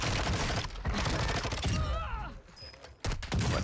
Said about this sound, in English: Oh, I got sniped at.